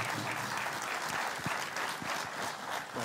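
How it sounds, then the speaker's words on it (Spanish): Audience applause for a singer on a Canarian folk music programme, a sustained, fairly distant wash of clapping with no talk over it. "ahora te damos este aplauso"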